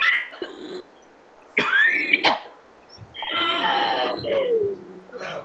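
A few harsh coughs and throat-clearing sounds in separate bursts, close and fairly loud, with short quiet gaps between them.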